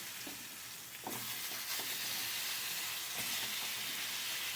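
Pointed gourd pieces go into hot oil and fry with a loud, bright sizzle that surges as they hit the pan and stays steady, with a few soft knocks of stirring.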